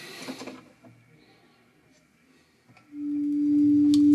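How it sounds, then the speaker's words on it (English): A steady pure sine wave test tone from a Danish test record starts abruptly after near silence and holds, slightly swelling in loudness, preceded by faint rustling and clicks. "Sine wave, nice."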